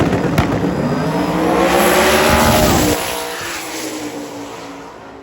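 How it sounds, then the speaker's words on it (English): Drag race cars launch down the track at a sick week event, a loud roaring engine blast that swells, then drops and fades as they pull away. "Okay, they got the track clean, and Devin and Josh are ready to go down."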